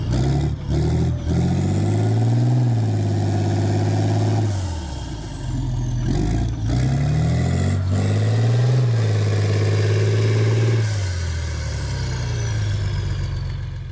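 A Challenger tank sits stuck in wet, soggy mud: its heavy engine idles loudly and steadily nearby, periodically swelling in pitch as it revs and settles back, with no talk over it.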